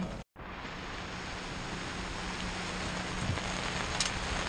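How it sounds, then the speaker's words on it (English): Heavy rain pours steadily at a go-kart racetrack during an LO206 kart race day, a dense continuous hiss broken by a brief silent cut near the start, with no talk. "And it's raining."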